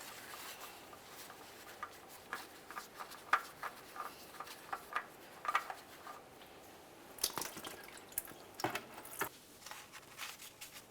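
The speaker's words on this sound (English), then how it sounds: "Turn the oil filter counterclockwise to start removing it. As you do, oil will come out." Engine oil drips from the oil filter of a 2015-2020 Cadillac Escalade, an irregular patter of small splats and drops that is close and fairly soft, with faint metallic clinks of the filter being turned.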